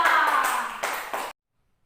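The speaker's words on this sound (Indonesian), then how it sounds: "Tepuk tangan dulu dong" Students in a classroom clap in a brief, dense burst during a physics microteaching lesson. The clapping fades slightly and stops abruptly, followed by silence.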